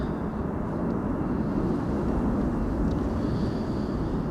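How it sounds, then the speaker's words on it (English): KLM Embraer 175 airliner arriving at Amsterdam Schiphol on a windy day, a steady broad jet roar heard from a distance with wind buffeting the microphone throughout. "It's an Embraer 175"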